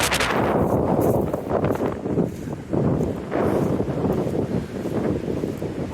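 Strong wind buffets the microphone on a stretch of North Sea coastline at a beach near Seaham, a loud continuous roar with gusty surges and a faint wash of surf beneath it.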